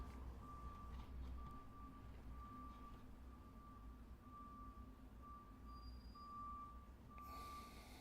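A truck's reversing alarm beeps steadily outside a building between two restaurants, a thin repeating tone over a low rumble of traffic and engine noise, fairly distant and continuous.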